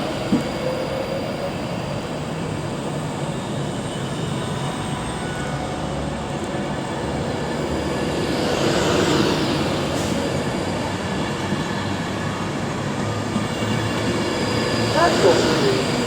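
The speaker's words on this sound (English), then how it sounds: "we've also got on the approach the 1308 London Northwestern Railway service from London Euston to Birmingham New Street" London Northwestern Railway service from London Euston to Birmingham New Street approaching Milton Keynes Central on the West Coast Main Line, a steady rumble of rolling stock that swells slightly midway, with faint wheel squeal and a station announcement voice.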